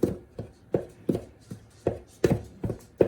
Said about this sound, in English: Cutting flour into butter.